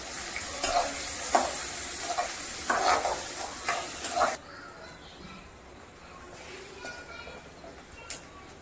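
Onion and green chillies sauté in a pan for kadalai mavu sambar, a crackling sizzle broken by several scraping stirs for about four seconds before it drops to a quiet hiss.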